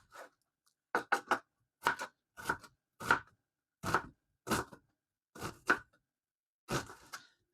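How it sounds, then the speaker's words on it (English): A knife slices and chops purple onions on a cutting board in about ten crisp, evenly spaced cuts, some landing as quick double strikes, heard up close with silence in between. "So all we're going to do is slice them up like this, and then make them into smaller pieces."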